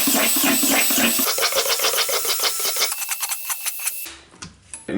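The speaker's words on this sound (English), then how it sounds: "This one is a 3/8 inch drill bit." A 3/8 inch drill bit grinds through a 5-gallon plastic bucket in rapid repeated bursts, loud and close, the whine fading near the end into brief scraping and handling noises.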